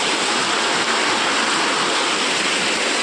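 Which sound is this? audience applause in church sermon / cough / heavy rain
heavy rain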